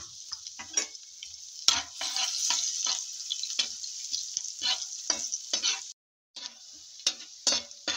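Garlic and onions, already browned, sauté in a pan with a loud, close, steady sizzle, broken by repeated stirring scrapes and a brief pause near the end.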